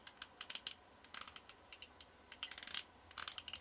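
Crisp, faint clicks from the aperture ring of an Auto Takumar 55mm f/1.8 lens being turned, a quick irregular series of light detents heard up close with no talking.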